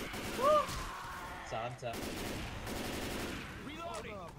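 Gunfire crackles in Left 4 Dead 2 during a zombie survival fight defending a bridge, with repeated shots in bursts under steady game noise while a person speaks briefly.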